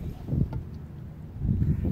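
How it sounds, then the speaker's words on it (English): Wind gusts buffet the microphone out on a bay during a jet ski outing, a low rough rumble that swells loudly, dips, then surges again. "It's kind of windy, so I'm not going to do much riding."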